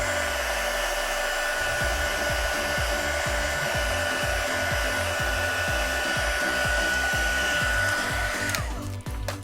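A hair dryer blowing steadily at close range to dry paint on a decorative mask, a loud continuous whirring hiss that cuts off near the end.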